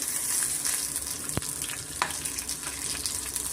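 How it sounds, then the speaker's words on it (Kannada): Crushed garlic and ginger frying in hot oil for a village-style avarekalu saaru, giving a dense, steady sizzle with a few sharp stirring knocks against the pan, close and uninterrupted by speech. "ಇದು ಶುಂಠಿ ಬೆಳ್ಳುಳ್ಳಿ ಇದೆಲ್ಲ ಸ್ವಲ್ಪ ರಾಸ್ ಮೇಲೆ ಹೋಗೋವರೆಗೂ ಸ್ವಲ್ಪ ನಾವು ಚೆನ್ನಾಗಿ ಫ್ರೈ ಮಾಡ್ಕೊಳ್ಳೋಣ"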